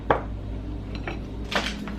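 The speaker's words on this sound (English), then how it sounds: "Now we're gonna give it a stir and let that melt." A spoon clinks and scrapes in a pot as half a stick of real butter is stirred into creamy potato soup, giving a few light metallic taps over a low steady hum.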